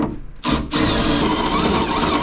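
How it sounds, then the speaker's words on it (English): A power drill bores into a truck tailgate, starting with a brief whir, a short pause, then a loud, steady grinding drone that runs on unbroken and close. "If you're having trouble with this tailgate, start the drill before you really push it all the way in there."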